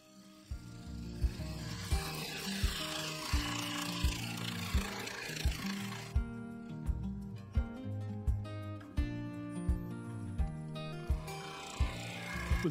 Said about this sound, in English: I switched over to the 3/8 bowl gouge, which is smaller, obviously, and it has more of a swept-back grind.